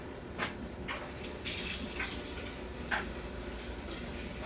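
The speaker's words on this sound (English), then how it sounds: "Put some water in here and rinse it up and empty it in here." Tap water runs steadily into a cooking pot while it is being rinsed in a kitchen, a soft, close hissing flow with a few splashy bursts as the water hits the metal.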